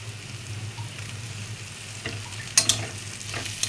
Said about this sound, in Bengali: এবার আমি টমেটো কুচি দেবো